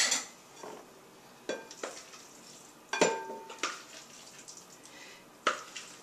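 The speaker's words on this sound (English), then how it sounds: "I'm going to just gently fold it into the tofu mix." A spinach mixture is gently folded into a tofu mix in a bowl for a quiche, producing sparse, quiet utensil clinks and soft scrapes against the bowl, spaced irregularly, with no talking.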